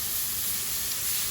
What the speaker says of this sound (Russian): Тоже жарю на таком как бы хорошем огне.